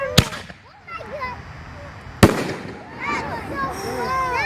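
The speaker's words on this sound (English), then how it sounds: "Wow, those things have some pop. Yep, Nukem shells" Nukem canister firework shells burst outdoors in two sharp loud booms a couple of seconds apart, followed by crackling and whistling effects, while excited people talk and exclaim over them.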